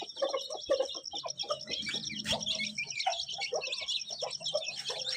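Caged birds, including chickens, chirp and tweet continuously and busily at close range while being fed, with overlapping calls and a few soft clucks and rustles.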